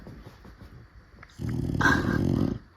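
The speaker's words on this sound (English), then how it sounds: "Look at this little baby dog." A small puppy makes a close, loud growling, snuffling burst of about a second and a half, rising to a sharper whiny peak, after quieter indistinct noises.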